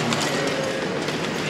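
Inside a busy train station hall in Bordeaux, a dense, steady wash of crowd and rail noise fills the space, loud and continuous with no distinct voices standing out.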